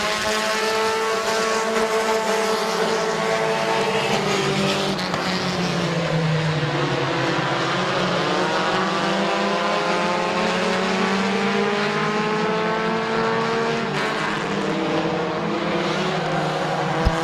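Compact race cars battling at Midvale Speedway, several engines snarling together in a loud, continuous close-up roar with pitches rising and falling as the cars pass and shift.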